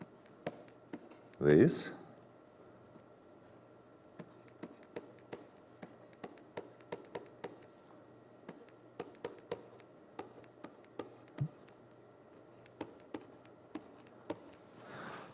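Marker or chalk writing on a board during a quantum computing lecture: soft, irregular taps and short strokes spread over about fifteen seconds, close and fairly quiet, with one brief spoken word near the start.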